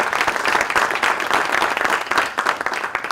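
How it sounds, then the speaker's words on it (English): Audience applause at a university awards ceremony for a researcher of the year, dense, lively clapping from a crowd, loud and continuous with no talk over it. "let's give Penny a round of applause."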